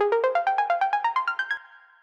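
Serum saw-wave synth arpeggio rapidly alternating high and low notes across a wide range in a techno track, a quick burst of about thirteen notes climbing upward before a sustained tone rings out alone.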